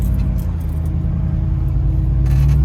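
An off-road vehicle crawls up a small rock wall near Moab, its engine rumbling low and loud at close range in a steady, heavy drone that swells slightly toward the end.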